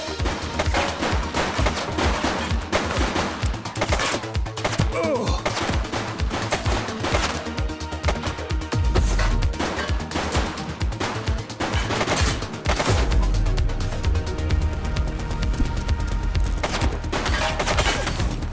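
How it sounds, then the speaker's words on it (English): Sustained gunfire from The Precinct video game, rapid repeated shots and bursts over a continuous dense background of game sound and music, loud and steady throughout. "He's shooting!"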